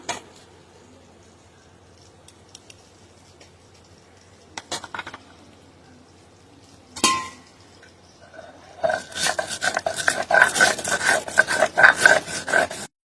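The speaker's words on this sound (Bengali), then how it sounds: "এখন সর্ষে বেটে নেব" Mustard seeds being ground by hand on a stone for cooking, starting with a few scattered scrapes and knocks, then a dense, rhythmic rasping and grinding that grows louder toward the end.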